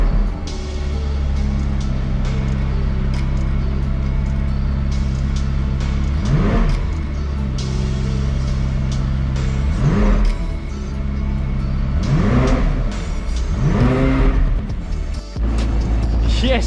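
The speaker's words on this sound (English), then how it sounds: "the McLaren is back on and it sounds unreal" A McLaren 540C sports car, under rebuild after damage, idles loudly and steadily after starting, with several sharp revs rising and falling over the running engine.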